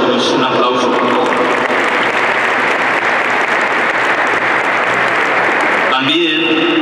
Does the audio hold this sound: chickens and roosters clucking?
no